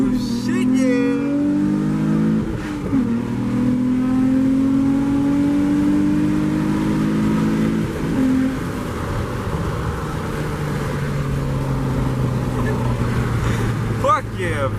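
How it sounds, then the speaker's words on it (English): A fast car accelerates hard through its gears, with rising engine whine and a grinding shift into third partway through. The engine stays loud and close as people talk over it inside the car. "For the viewers, that third gear grind though, yeah, I know it hurts."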